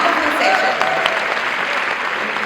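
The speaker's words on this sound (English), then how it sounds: "Can we have another round of applause for this wonderful session?" Steady audience applause, dense and sustained throughout, with many hands clapping at once in a large room.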